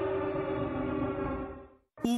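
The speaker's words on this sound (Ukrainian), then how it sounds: "На Волині оголошено повітряну тривогу" An air raid alert siren for the Volyn region of Ukraine, aired on a Lutsk TV channel, holds a loud, steady wailing tone alone for nearly two seconds, cuts to silence, then a second tone begins.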